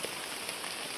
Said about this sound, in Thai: ก็สิหยุดพักอยู่นี้แป๊บหนึ่งก่อนเพราะว่าฝนตกแล้ว